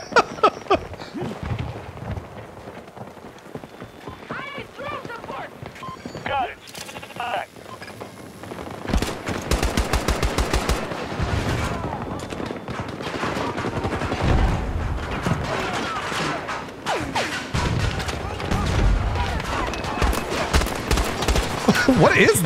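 Battlefield 2042 combat, dense bursts of rapid automatic gunfire and shots crackling almost continuously, loud and close, with busy game action around them.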